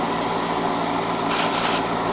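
Airbrush spray paint hissing onto a 1/144 HG Gundam Sinanju Stein Narrative version model kit, a steady hiss under a constant compressor-like drone, with a brief stronger burst midway.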